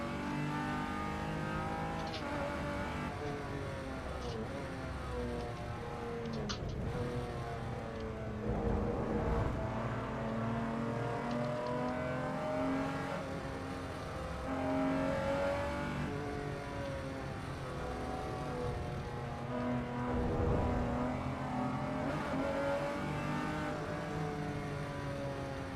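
A Datsun 240Z engine in Assetto Corsa EVO, accelerating hard through the gears with a continuous, loud revving drone that rises and drops at each shift, with no talking.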